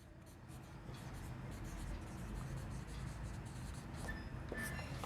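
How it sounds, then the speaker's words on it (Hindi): A pen scratches across paper as an accounts narration is written by hand, a quiet, close, continuous scratching over faint room noise. "और अब हम नीचे नरेशन लिखेंगे"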